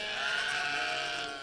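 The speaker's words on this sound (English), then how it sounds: "You hear the sheep thinking they're getting something" Sheep on a farm bleat in a sustained, fairly loud call that carries on unbroken with no talking over it.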